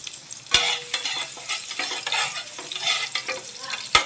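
Garlic sizzles and crackles in a hot pan while being stirred for a mushroom paneer chilli, with steady frying hiss and a couple of sharp utensil knocks against the pan.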